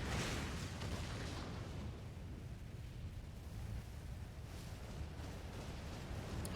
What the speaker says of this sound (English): That sure was a big explosion.